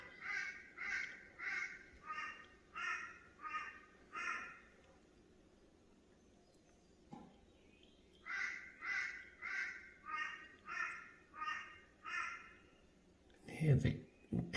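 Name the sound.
crows calling in the background, South-East Queensland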